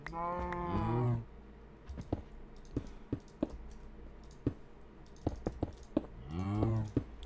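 Cows mooing in the video game Minecraft: two long, loud, close moos, one at the start and one at the end, separated by a run of sharp keyboard and mouse clicks.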